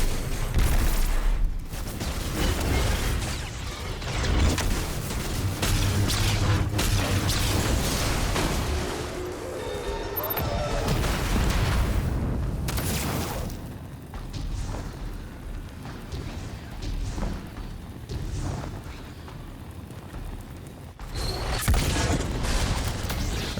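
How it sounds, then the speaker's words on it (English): Grenades burst again and again in a Destiny 2 firefight on a lawless frontier, booming blasts mixed with rapid gunfire in a dense, loud, near-constant barrage that barely lets up. "Grenade."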